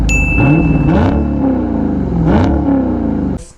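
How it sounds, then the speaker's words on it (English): A 2019 Dodge Charger Scat Pack with a Borla S-Type cat-back exhaust revs hard twice, its deep V8 note rising and falling between blips over a steady idle rumble, loud and close with no talk. "I'm gonna do exhaust revs"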